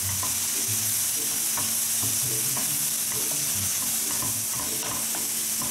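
Tomato, pepper and whole pepper stirred in a hot pan for salmon escabeche, a steady loud sizzle of frying with scraping stir strokes throughout, close up and alone.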